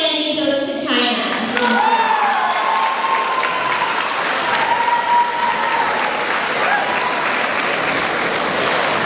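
Sustained audience applause fills a closing ceremony hall for a Model United Nations conference, loud and continuous from start to end, with faint voices and a few cheers mixed into the clapping.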